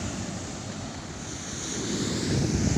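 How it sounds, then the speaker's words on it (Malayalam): Rough sea surf rolls in at Kollam Beach in a continuous broadband roar with wind, swelling louder toward the end as a wave arrives, with no voices. "കണ്ടാ കൂട്ടുകാർ വരുന്ന തിര കണ്ട"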